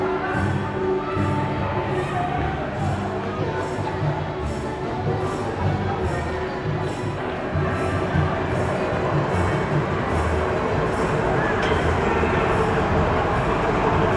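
A train running at the Ambarawa railway museum, with a loud, continuous rolling rumble of rail cars and rhythmic wheel clatter. Faint squeals and background voices sit under the noise.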